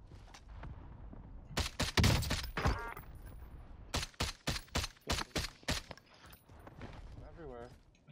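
Rapid bursts of gunfire crackle in a Call of Duty Warzone match, sharp repeated shots in clusters with a gap between volleys, while players talk over the action.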